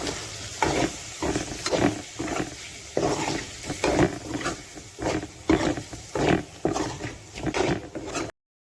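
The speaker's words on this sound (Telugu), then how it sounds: "కలుపుకొని కాసేపు వేగనివ్వండి." Turmeric, coriander powder and chilli powder stirred and frying in a pan for paneer curry, heard as a continuous close sizzle broken by repeated rhythmic scraping strokes, with no talking.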